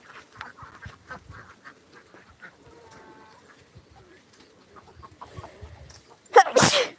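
A flock of ducks gives faint, scattered quacks in a farmyard among turkeys and chickens, ending in one loud, sharp burst of noise.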